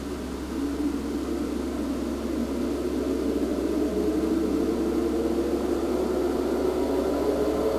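Race car engines in a racing video game drone steadily as the cars roll off, a broad, even whooshing roar with a low steady hum beneath, building slightly louder over several seconds with no talk.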